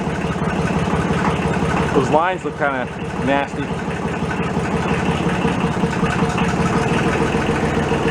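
A thrashed Kubota diesel tractor engine idles steadily with a low, rough throb, while someone speaks briefly over it partway through.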